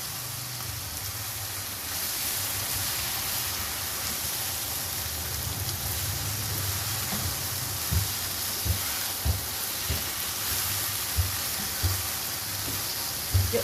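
Eggplant and potato pieces sizzle steadily in hot oil with a dense, constant frying hiss, and a few soft knocks of stirring come through toward the end; no one talks.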